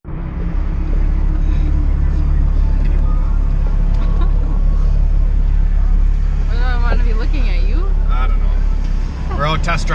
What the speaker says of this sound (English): We're out test driving the car now with the new cams.